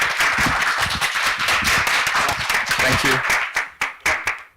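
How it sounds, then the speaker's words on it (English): Audience applause for the panelists at an AI symposium, dense and steady clapping that fills the room before breaking into a few scattered final claps; a brief spoken thanks rises over it. "So please give them another warm round of applause"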